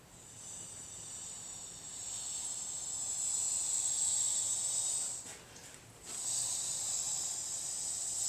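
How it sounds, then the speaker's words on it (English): Air hissing out of a rocket body tube while its coupler is glued with epoxy: a steady, close high-pitched hiss lasting several seconds, dipping briefly near the end before resuming. "Letting the air out."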